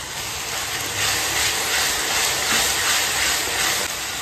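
Onions with salt sautéing in a kadhai over a medium flame give off a steady, close, broadband sizzling hiss that swells slightly in the middle and carries on without any talking.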